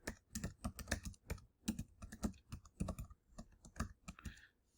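Someone types a terminal command on a computer keyboard, a quick close series of crisp key clicks in irregular bursts, with no talking.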